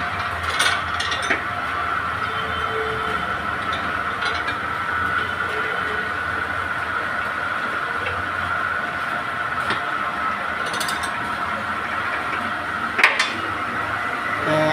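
A rebar straightening machine works 4-thread steel rod with a steady mechanical drone and grinding hum, broken by occasional louder metallic clanks.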